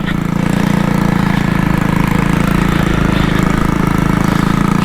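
A Honda Trail 125 motorcycle rides along an unfamiliar trail near Copper Harbor, Michigan, its engine giving a loud, steady, close-up drone with a throbbing low-end rumble that never lets up.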